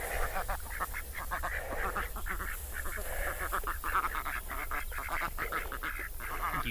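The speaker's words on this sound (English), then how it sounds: "You traumatized the ducks, Sean." Ducks by a pond quack repeatedly in rapid, overlapping calls, moderately distant and somewhat faint over a low steady background hum.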